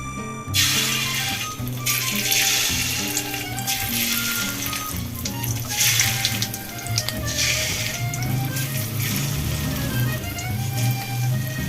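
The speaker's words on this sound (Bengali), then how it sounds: "তেলটা গরম হয়ে গেছে, আমি এবার ডিমগুলো ছেড়ে দেব।" Fish roe fritters dropped into hot oil in a wok: loud, continuous crackling sizzle with bright bubbling hiss and occasional clinks of utensil against the pan, steady throughout with no talking.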